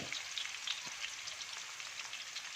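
Thin banana slices frying in hot oil for traditional banana chips, a faint, even crackling sizzle with scattered tiny pops and a brief low knock, with no talking.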